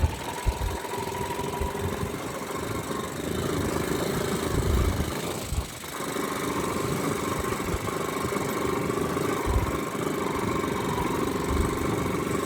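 A motorcycle climbs a steep Himalayan mountain road in low gear, its engine a continuous close, throbbing drone that dips briefly midway before pulling on.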